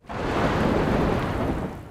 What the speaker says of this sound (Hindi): कितना अच्छा मौसम है, हवाएं चल रही है, बारिश हो रही है।